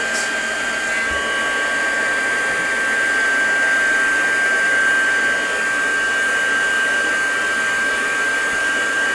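A handheld dryer blows steadily on a paper craft project of flowers, a loud continuous whirring roar with a high motor whine that holds unchanged throughout, close and without talk.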